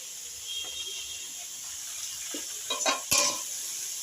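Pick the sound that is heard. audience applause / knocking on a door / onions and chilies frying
onions and chilies frying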